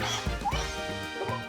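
A young child in a family daycare imitates a dog, giving a few quick, loud yappy barks in a short rhythmic burst, close to the microphone.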